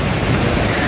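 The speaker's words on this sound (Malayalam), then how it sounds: "ഭയങ്കര മഴയാണ്." Heavy rain pours in a shopping area in Germany as a loud, dense, steady roar of broadband noise, unbroken for under a second.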